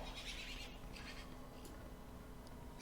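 Goat bleats from the World of Warcraft game world, a few faint, brief calls that rise over a quiet, constant bed of ambient game sound.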